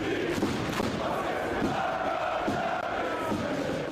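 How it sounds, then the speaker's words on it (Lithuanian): A huge crowd of Rytas basketball fans roars and cheers wildly inside an arena, a dense, continuous wall of shouting and chanting at steady high loudness with no pauses. "O šitaip audringai šėlsta didžiulė Ryto fanų minia"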